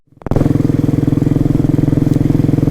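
A Royal Enfield Himalayan motorcycle engine fires up and settles into a loud, close, steady thumping idle with an even rapid pulse, heard on a road trip.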